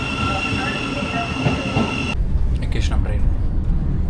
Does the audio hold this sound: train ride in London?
yes